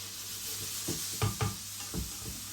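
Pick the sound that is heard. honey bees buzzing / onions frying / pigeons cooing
onions frying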